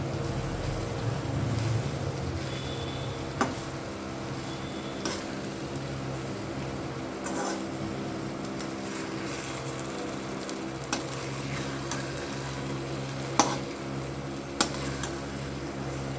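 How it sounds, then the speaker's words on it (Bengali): Prawns being tossed and stirred as they fry in a pan for a Bengali prawn dish, a steady soft sizzle with occasional light scrapes and clicks of a spatula, no talking. "চিংড়ি মাছগুলো একটু উল্টে পাল্টে নেব।"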